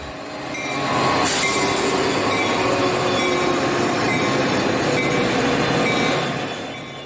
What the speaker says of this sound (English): another westbound through train makes the station stop at Downers Grove